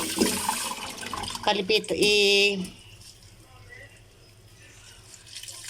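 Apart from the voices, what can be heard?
draining water from cooked pako ferns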